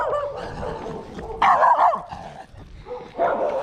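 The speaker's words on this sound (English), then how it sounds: "Little dogs. Always coming after me when I'm running." An unleashed little dog chases a runner, yapping in sharp, close bursts, with one louder cluster of barks partway through and a quieter bark near the end over outdoor background noise.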